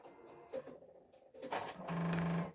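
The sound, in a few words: talking sewing machine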